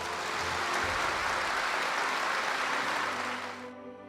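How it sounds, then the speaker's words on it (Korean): Broad, steady applause from a crowd at a Korean e-government anniversary gathering, loud and sustained for several seconds before thinning out at the end. "스스로 자축하는 박수 한번 치십시다"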